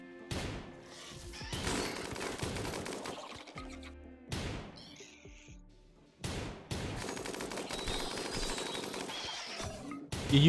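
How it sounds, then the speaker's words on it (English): Rapid machine gun fire from a cataphract-armored colonist in RimWorld, with repeated dense bursts of shots separated by brief pauses, loud and close, broken by short heavy impacts. "I want him to use his machine gun."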